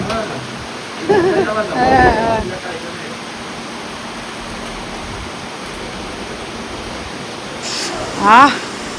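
Heavy rain pours at a resort in Diamond Harbour as a steady, dense rushing hiss that fills the whole stretch, with short bursts of nearby voices near the start and end.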